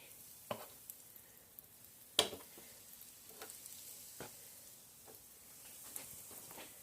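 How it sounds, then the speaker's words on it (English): Cheesy tot balls deep frying in hot grease give a faint, steady sizzle, broken by a few sharp clinks and taps from the fryer basket. "And we're going to go ahead and put them in the deep fryer"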